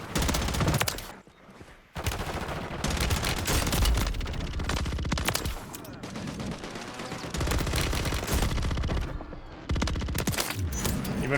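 Dense, continuous video game gunfire with bursts of machine-gun and rifle shots layered over explosions and chaotic battle noise, loud throughout with only a brief dip near the start.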